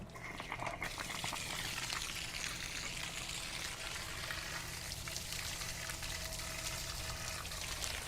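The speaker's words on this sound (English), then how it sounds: "Now we're going to pop this valve, and you'll see it shoot out of there." Water rushes out of the opened drain valve on a Suburban RV water heater tank, a steady, loud pouring stream that runs without a break and with no talk over it.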